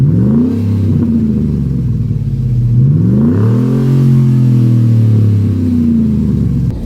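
A 2014 Ford Raptor pickup engine revs up and down repeatedly, its deep rumbling pitch rising and falling in loud, close surges.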